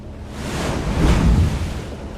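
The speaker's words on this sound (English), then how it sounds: "Wow, it sure is windy out here." Strong wind buffets the microphone at a beach while ocean surf roars underneath, a loud, continuous rumbling wash that swells in the middle and eases slightly toward the end.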